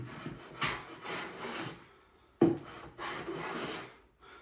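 A Stanley 605 hand plane rasps along a jointed wood edge in several long strokes, close and fairly quiet, with short pauses between passes.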